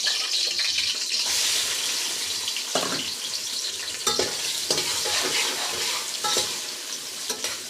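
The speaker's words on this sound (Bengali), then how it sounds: "এখন দিয়ে দেবো পেঁয়াজ কুচি" Chopped onion hits hot oil already holding bay leaf, cinnamon and cardamom for bhuna khichuri, giving a steady loud sizzle with scraping stir strokes and a few sharp spatula knocks, no voice.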